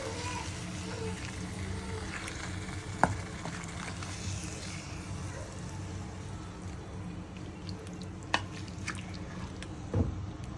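A mutton rib bone curry simmers and sizzles steadily in a pan, a continuous low bubbling hiss with occasional sharp clicks from the pan, heard alone without talk.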